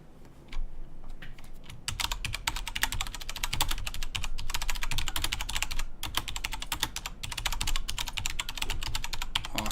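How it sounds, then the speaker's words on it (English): Rapid, continuous clatter of keys on a mechanical computer keyboard, loud and close, with dense keystrokes that barely pause and a steady low background hum underneath. "Oh, I hear that mechanical keyboard."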